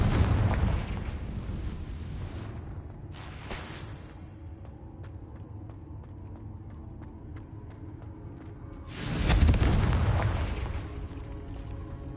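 Confringo explosion spell blasts in the video game Hogwarts Legacy, two loud booming bursts with a rumbling tail, one opening the moment and a heavier one near the end, separated by quieter ambient game sound.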